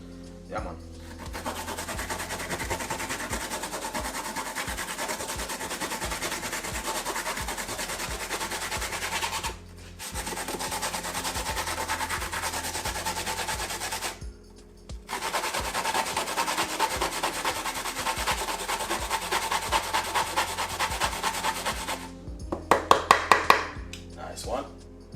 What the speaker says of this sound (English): So I'm just going to just simply grate a little piece of a coconut.